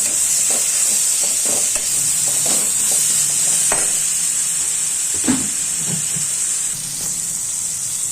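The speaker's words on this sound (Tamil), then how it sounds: "ஒரு ஸ்பூன் அளவுக்கு மிளகாய் பொடி சேர்த்து நல்லா வதக்கிக்கணும்" Chili powder sautéing in a pan for pasta gives a loud, steady hiss and sizzle, broken by the scrape and clatter of a spoon stirring, close up and with no talk.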